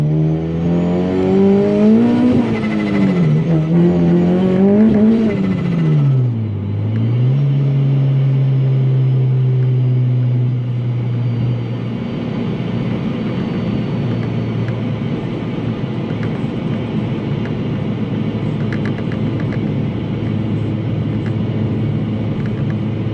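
A supercharged 8th-gen Honda Civic Si with a Kraftwerks kit revs hard and climbs through its gears, engine pitch rising, dropping at a shift, then settling into a steady loud drone from inside the car.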